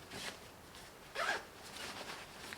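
Zipper on a compartment of an Ultimate Direction Adventure Vest 6.0 running hydration vest being pulled open, a few quick close raspy zips with a louder burst in the middle, heard alone.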